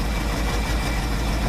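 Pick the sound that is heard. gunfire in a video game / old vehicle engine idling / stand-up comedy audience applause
old vehicle engine idling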